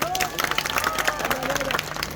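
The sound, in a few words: applause for Arash Khan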